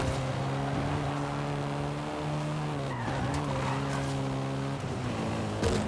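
Volkswagen Golf R engine in a racing video game, a steady droning hum that dips and rises with gear changes and throttle, with tire skids layered over it.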